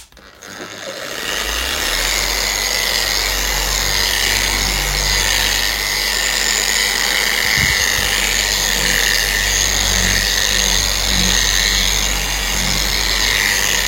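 A polishing machine runs steadily on a car windscreen during ceramic coating detailing, a continuous loud whirring drone with a high-pitched whine, holding an even level throughout after a quick start.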